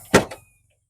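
Boot of a 2023 Ford Fiesta ST opening: a single sharp latch clunk followed by a softer second knock, close and brief, then quiet.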